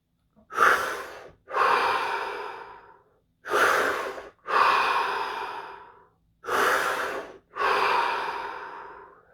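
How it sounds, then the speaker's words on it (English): Three deep breaths taken slowly during a guided stillness session, each a long, loud inhale followed by a full exhale, close to the listener with quiet gaps between them. "So we start with 3 deep breaths"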